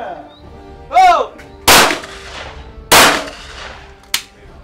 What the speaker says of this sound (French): Ça c'est le canon 75 celui-là.